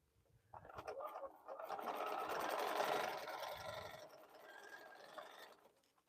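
A sewing machine runs a steady stitching burst while sewing a fabric bowl cozy, its motor whir and needle rattle continuous for most of several seconds before slowing, with faint background noise around it.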